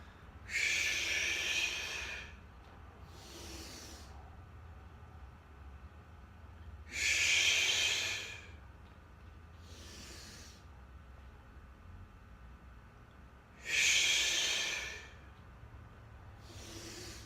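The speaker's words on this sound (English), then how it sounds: "Breathe out to pull in, breathe in to open back up." Strong, forceful breaths during a boxing and core HIIT workout: three loud hissing exhales at regular intervals, each followed by a softer inhale, over a quiet low hum.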